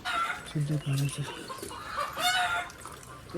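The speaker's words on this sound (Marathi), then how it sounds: "कोंबड्या ओरडतात जरा." Several chickens cluck and squawk close by in uneven bursts, with a rooster-like call rising partway through and faint voices in the background.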